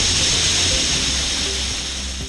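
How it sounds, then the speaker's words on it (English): Pali waterfall in Valpoi, Goa, rushing as a loud, steady broadband roar that fills the whole clip, close and continuous with no voices over it. "This is Pali waterfall"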